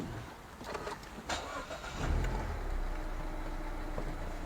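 A 2017 Mazda 1.3 Skyactiv automatic five-door car engine cranks briefly and then catches, settling into a steady low idle that rumbles on to the end.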